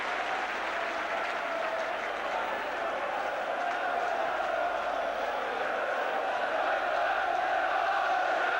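A large football stadium crowd of about 33,000 at a Chelsea versus Liverpool FA Cup match roars and cheers continuously, a dense, loud, unbroken wash of voices that swells slightly toward the end.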